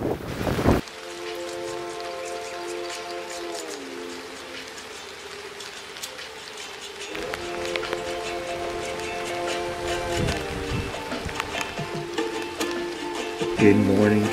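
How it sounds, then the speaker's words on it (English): Heavy rain pours steadily, a dense hiss of drops beating on surfaces, with a sustained droning hum running underneath and a few louder bursts near the end; no voices. "So much rain."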